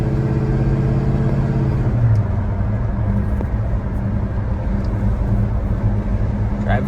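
A 1970 Chevrolet El Camino engine drones loud and close on a test drive, a steady rumble whose pitch shifts as the throttle is worked, with low-frequency road and cabin noise throughout.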